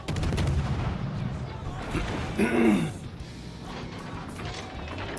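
Naval gunfire from a cruiser firing over a strip of land in the video game World of Warships Legends, a single heavy boom with a rumbling roll, under ongoing commentary and battle ambience.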